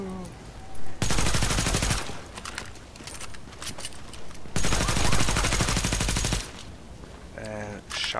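Two long bursts of rapid automatic rifle fire in a third-person shooter, each lasting about two seconds, loud and close, separated by quieter ambient game sounds and a brief mechanical clatter.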